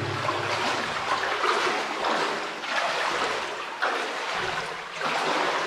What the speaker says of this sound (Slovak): Voda tam začína pekne stúpať.